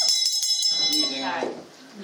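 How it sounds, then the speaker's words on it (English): A school bell rings with a bright metallic tone for a brief moment, then fades as voices start talking. "Oh no, that awful bell."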